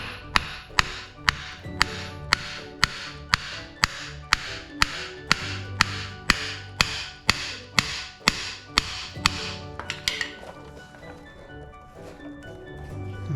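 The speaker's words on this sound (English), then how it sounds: "Then I take my hammer and lightly tap the actual axle down." A hammer taps a Jeep JKU axle during U-joint replacement, about twenty sharp, evenly spaced metallic taps, close by, slowing and softening toward the end.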